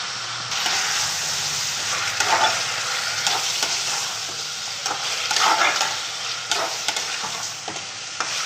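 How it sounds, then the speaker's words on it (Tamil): Ginger garlic paste sautéing in oil in a pan: a continuous close crackling sizzle with intermittent stirring scrapes and clinks throughout, no voices. "இப்போ நம்ம இஞ்சி பூண்டு போட்டுக்கலாம்."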